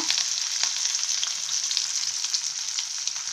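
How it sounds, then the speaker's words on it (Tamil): Chopped large onion frying in hot oil in a pan, a steady close sizzle with faint stirring scrapes, no voices. "இப்போ இந்த வெங்காயம் வந்து கொஞ்சம் வதங்கணும்"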